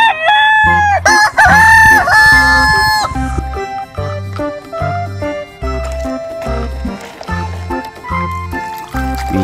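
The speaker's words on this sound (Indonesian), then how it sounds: "ada ayam." A toy rooster lets out a bright, close cock-a-doodle-doo crow near the start, followed by a bouncy electronic jingle with a steady beat and short clucking notes.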